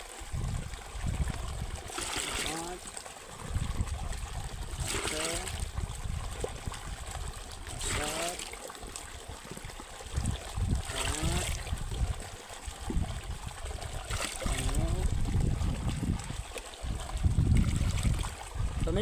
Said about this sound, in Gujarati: આ 10 ડબલામાં પાણી નાખી દઈએ